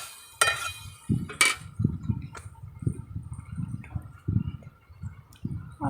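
A spoon scrapes and clinks in a pan while potato, okra and eggplant curry is stirred, giving repeated short scraping strokes and a couple of sharp metallic clinks early on, close and fairly quiet.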